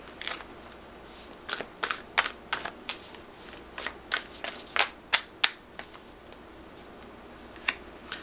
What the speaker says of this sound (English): So let's pull some oracle cards.